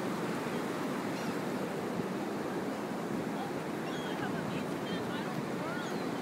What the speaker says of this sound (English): walking on the beach with me.